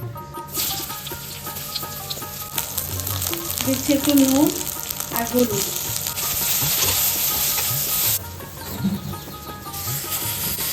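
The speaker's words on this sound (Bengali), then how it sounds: "এবার এই তেলেই বেগুনটা একটু ভেজে নিচ্ছি আগে" Eggplant sizzles steadily in hot oil left from frying small fish, stirred as salt and turmeric go in; the dense crackle stays loud and close throughout, with a brief voice over it.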